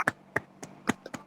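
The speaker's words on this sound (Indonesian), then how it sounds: "Tepuk tangan dulu buat Rinda." A few scattered, separate claps from a small elementary school class cheering a student, six or so sharp hand strikes spaced irregularly, close and clear with no talking.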